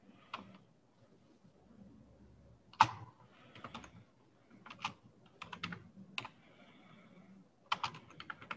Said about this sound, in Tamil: அதில் வந்து நாலு விஷயம் டைப் பண்ண போகிறோம்.